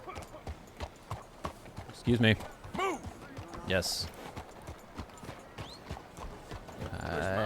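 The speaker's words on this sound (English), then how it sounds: "Just riding my horse." Horse hooves clip-clop at a steady rhythm as an Arabian horse is ridden in the video game Red Dead Redemption 2, running under continuous talking from the game's characters.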